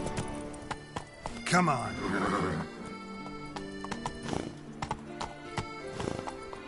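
Hoofbeats of Roach, the horse in The Witcher 3: Wild Hunt (Blood and Wine DLC), with a neigh or whinny mixed in. Someone talks over the steady clip-clop, and the sound sits fairly close.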